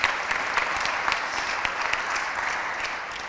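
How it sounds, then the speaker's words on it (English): A graduation ceremony audience gives a round of applause, dense sustained clapping from many hands with a few sharper individual claps standing out, filling the room evenly from start to finish. "Let's give a round of applause for that."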